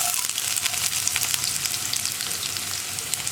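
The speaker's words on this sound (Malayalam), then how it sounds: "ഇനി നമുക്കിതിലേക്ക് നമ്മൾ കട്ട് ചെയ്ത് വെച്ചിരിക്കുന്ന സവോള ചേർക്കാം" Chopped onion hits hot oil with popping mustard seeds for a Kerala carrot and long bean thoran, giving a steady, close, loud sizzle and crackle that fills the whole stretch with no talk.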